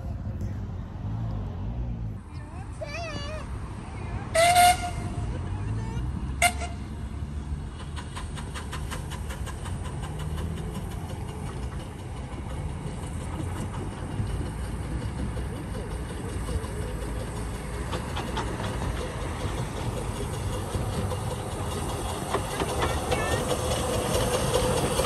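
A miniature railway train rumbles along steadily with hissing and clattering, a sharp whistle near the start, and background chatter throughout.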